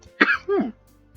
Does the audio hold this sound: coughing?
yes